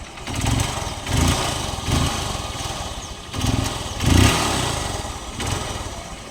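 A 2012 Unicorn motorcycle engine idles and revs in short bursts, rising and falling several times, loud and close.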